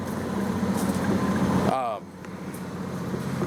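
A 5,500 watt Onan generator runs inside a 1999 Thor Pinnacle RV, a steady low engine hum under someone talking.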